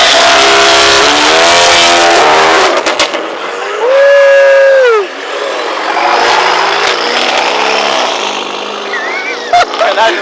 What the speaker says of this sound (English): Some cars can do a launch.